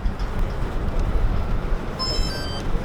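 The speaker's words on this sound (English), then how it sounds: "So what you just heard there is the tones to signal to him high voltage is enabled." An Aerial ATV at CES 2023 gives a short series of high electronic tones to signal that high voltage is enabled, sounding over steady loud broadband machine and hall noise.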